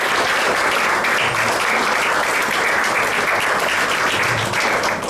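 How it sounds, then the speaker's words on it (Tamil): Church congregation applauding a keyboardist, a dense, loud, continuous wash of clapping that holds steady throughout. "அவருக்கு ஒரு கைத்தட்டு கொடுங்க."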